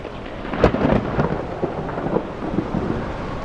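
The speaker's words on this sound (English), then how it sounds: "To make matters worse, a storm broke out." A sharp crack of thunder followed by rolling rumbles, with steady rain and a stormy wash of noise underneath.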